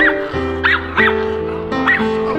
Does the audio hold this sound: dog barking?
yes